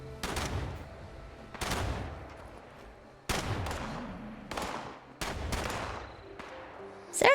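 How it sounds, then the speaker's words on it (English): Video game gunfire from Fallout 76 comes as several loud, sharp shots and short bursts spaced a second or two apart, each with a ringing tail. "They're shooting at me now."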